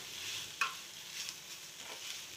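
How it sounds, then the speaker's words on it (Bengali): Boiled, hand-mashed potatoes are stirred and fried in a pan: a soft, continuous sizzle with a sharp scrape or clink near the start and a few faint stirring sounds after it, close and fairly quiet, with no talking. "তারপর সুন্দরভাবে নেড়ে চেড়ে ভেজে নেব।"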